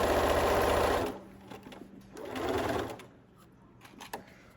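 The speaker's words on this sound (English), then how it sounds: "you're gonna have to sew multiple layers of these towels. And the thicker they are, the harder they are to sew." A sewing machine stitches through several thick layers of towel, with a loud steady motor run at first, then a few shorter bursts and pauses, up close.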